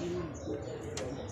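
A racing pigeon resting after its first lap coos softly and low in a brief, murmuring phrase. The call is faint under steady background hiss, with a sharp click near the end.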